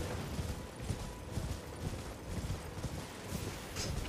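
Horse galloping in the video game Elden Ring, a steady run of rhythmic hoof clatter at moderate volume, continuous across the stretch with no voices over it.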